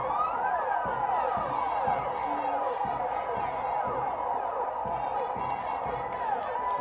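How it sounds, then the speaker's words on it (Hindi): Police hooter sirens wail and sweep continuously at a public Mission Shakti women's safety event in Uttar Pradesh, loud and layered over crowd noise and a voice speaking. "हूटर की आवाज"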